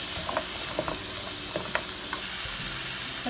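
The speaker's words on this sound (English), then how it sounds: "Add garlic, chili powder, cumin, chipotle, and salt, and cook, stirring constantly until fragrant" Garlic, chili powder, cumin, chipotle and salt sizzle and fry in a pot as a spoon stirs them, a continuous hiss broken by small scraping clicks, close and fairly quiet.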